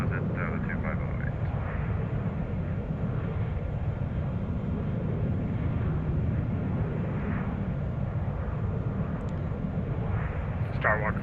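Boeing 787-9 jet engines spool up for takeoff in the X-Plane 12 flight simulator, a steady, loud broadband roar that holds even throughout, with radio chatter faintly audible underneath.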